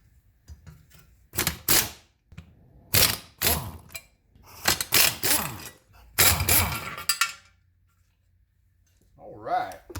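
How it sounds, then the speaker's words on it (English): An impact wrench on its low setting works Allen head screws loose from a front brake dust shield on a 1984 Mercedes 300SD W126: loud rattling bursts of hammering separated by pauses, close up, with a voice in the gaps. "I've got our impact wrench on low."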